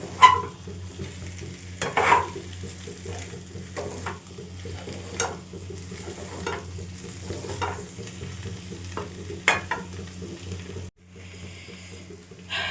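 Red-hot spicy mutton curry with green chillies being sautéed and stirred in a pan, a steady close sizzle broken by repeated scraping spoon strokes, with a short quieter gap near the end.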